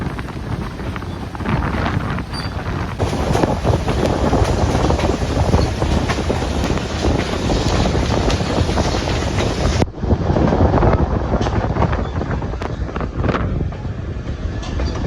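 The 765 steam train excursion runs along the line, a loud continuous rumble and rattle of rail cars with heavy wind buffeting against the microphone, no talk.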